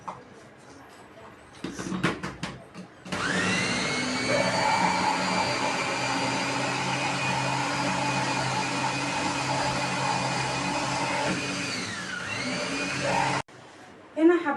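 An electric chopper mincing onion finely for kofta runs as a loud, steady motor whine for about ten seconds, then spins down, with brief handling clatter before and after.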